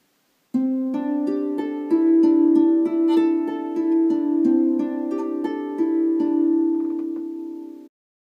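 A double-strung harp plays a repeating pattern of bright plucked notes, alternating between two chord shapes in a steady rhythm, clear and close with no talking.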